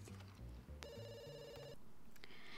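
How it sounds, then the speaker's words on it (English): A telephone rings in The Sims 2, its bright electronic trill sounding once for about a second over soft background game music, with no talking. "Wait, we have a phone right here."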